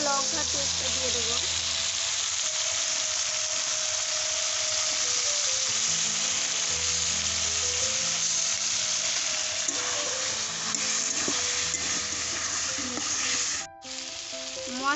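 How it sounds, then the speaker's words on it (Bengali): Chicken sizzles steadily with onions in a hot pan, frying loud and continuous with occasional stirring, and a brief break near the end. "পেঁয়াজের সাথে চিকেনটা আমি হালকা ভেজে নেব।"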